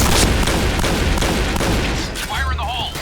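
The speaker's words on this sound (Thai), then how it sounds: "โอ้โหระเบิด" In the online shooter game Point Blank, a loud explosion roars and crackles with gunfire-like bursts before easing, and a voice calls out briefly near the end.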